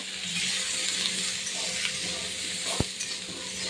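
Young pumpkin curry with salt and turmeric being stirred in a pan: a soft, continuous frying hiss with faint stirring and one sharp utensil clink near the end.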